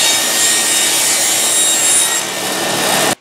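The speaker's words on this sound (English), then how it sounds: "I'm putting it in here to make all four of my cuts exactly the same angle." A handsaw cuts angled kerfs in wood guided by a wedge jig while building a small padded stool, giving a loud, steady rasping stroke close by for about three seconds before stopping abruptly.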